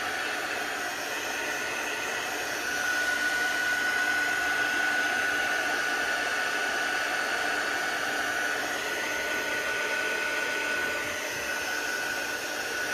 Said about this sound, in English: So I'm going to give it a quick blast with the heat tool.